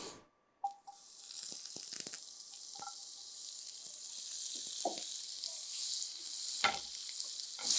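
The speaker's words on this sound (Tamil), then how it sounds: "அடுத்ததாக வந்து இந்த சோயா சங்கை இந்த பட்டரில் லைட்டாக" Soya chunks tossed lightly in butter in a pan, a soft steady sizzle with occasional clinks and stirring scrapes, fairly quiet and continuous.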